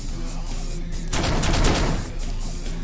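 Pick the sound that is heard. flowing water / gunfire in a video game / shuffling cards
gunfire in a video game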